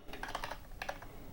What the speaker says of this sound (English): Typing is not going well today.